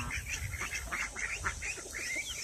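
Farmyard ducks and other fowl calling together, a continuous chorus of honking and quacking calls, close and fairly loud over a steady noisy outdoor background, with no talking.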